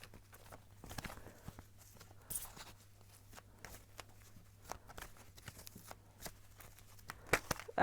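A deck of tarot cards is shuffled up close in a quiet room, with scattered soft riffles and taps over a low steady hum, ending in a sharper burst.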